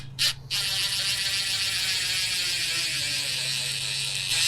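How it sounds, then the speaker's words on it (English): An impact driver whirs steadily while tightening a 10 mm nut onto a clamp for a string trimmer kit on a Z9 zero-turn mower, with a short burst first and then one long continuous buzzing run. "we're just gonna get that started here using the impact"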